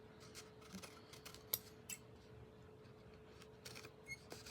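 Faint, scattered clicks and soft slicing ticks from trimming a paper panel for vintage Christmas gift card holders with a cutter, all quiet and close with no talk.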